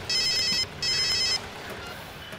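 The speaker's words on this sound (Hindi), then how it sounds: "आपका फोन कभी तो बजा" A telephone rings indoors in two clear, evenly spaced bursts, loud and close, followed by quiet room noise with no voices.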